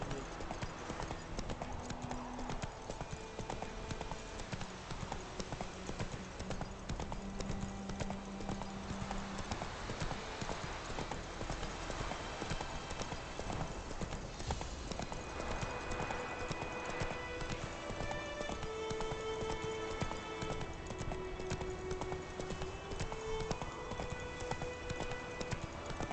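Roach the horse in The Witcher 3, hooves clip-clopping in a steady rhythm throughout over game music, with someone speaking now and then.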